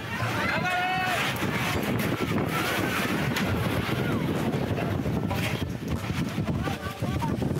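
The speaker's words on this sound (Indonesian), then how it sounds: "hanya dalam hitungan detik, beberapa kios warga di Thailand tersapu oleh angin." Strong storm wind in Thailand tearing through and sweeping away roadside kiosks: a loud, continuous roar of gusts and buffeting that fills the whole stretch, with indistinct voices mixed in.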